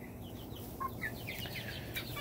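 Young chickens, a batch of about twenty being raised for meat, make soft chirps and clucks, faint and scattered over a constant low background noise.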